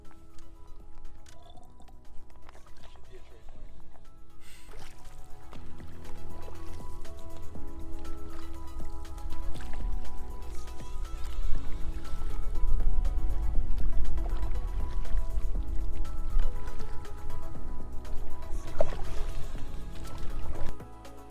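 Continuous squishing and trickling of Lake Opeongo water being filtered into a container in Algonquin Park, with a low rumbling throb and gurgles building over twenty seconds.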